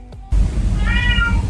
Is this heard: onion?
no